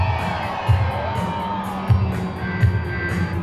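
Outdoor air show crowd for the Esquadrilha da Fumaça display team in Pinhais, Paraná, cheering and shouting in repeated swells, with children's voices and whoops, while an announcer talks over a PA.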